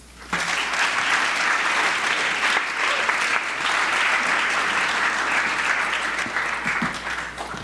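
An audience applauds steadily for several seconds to welcome a speaker at a morning meeting on cyber security, a dense, even clapping that holds throughout and fades slightly at the end.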